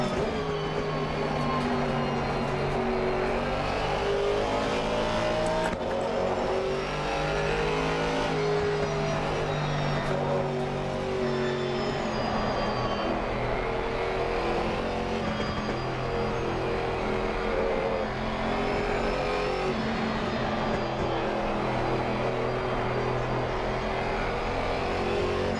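An Aston Martin GT4 race car in a racing game at Suzuka revs and shifts continuously, with rising and falling engine notes and occasional tire squeal, steady and fairly loud.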